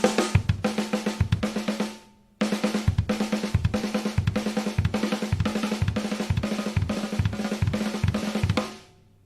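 Close, loud drum kit playing a rapid 4-2 pattern across snare and kick drum, a brief burst, short pause, then a longer steady run of quick grouped strokes ending in a ringing decay.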